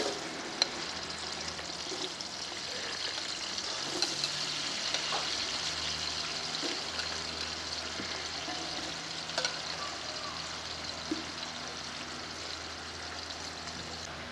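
Three or four finely chopped onions fry in about three spoons of hot oil in a pan for Saudi-style chicken mandi, giving a steady, dense sizzle and crackle that continues alone without talking.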